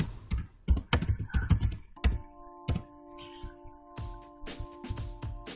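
Clattering keystrokes on a computer keyboard in irregular bursts, close and crisp, with brief pauses between typed words and a faint steady tone underneath.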